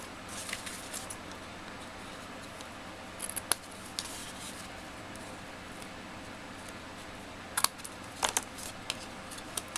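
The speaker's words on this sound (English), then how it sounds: "I'm going to need to trim off the tails." Scissors snip the tails of a ribbon bow on a handmade thank-you card, making a few quick, close, faint clicks with quiet pauses between them and no talking.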